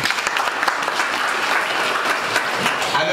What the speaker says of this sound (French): j'aimerais vraiment que vous vous applaudissiez pour cela